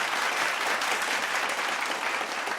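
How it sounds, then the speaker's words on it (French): A fashion show final audience claps loudly and steadily, a thick, unbroken roar of applause that stays constant from start to finish. "On l'applaudit bien fort."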